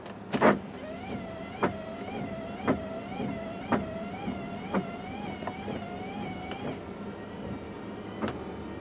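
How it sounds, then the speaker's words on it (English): School bus windshield wipers running during a pre-trip inspection: a motor whirring steadily with a regular thump at each end of the sweep, roughly once a second, close and clear, then stopping, with no talk. "Now I'll check my windshield wipers and washers."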